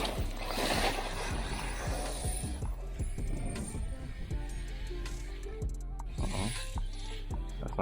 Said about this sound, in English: That sounds like spur gear. Something's not hooked up properly.